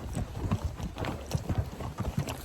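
Horse hooves clip-clop steadily at close range while riding uphill in the dark on a mule deer hunt, an uneven rhythmic plodding of soft thuds with some creaking and rustle.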